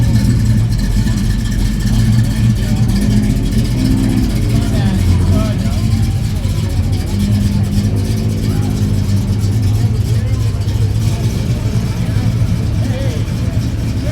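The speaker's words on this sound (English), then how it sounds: "We'll listen to this GTO back out." Pontiac GTO at a historic car festival parade at Lime Rock Park, its engine rumbling steadily at close range as it backs out, a low continuous drone with people talking nearby.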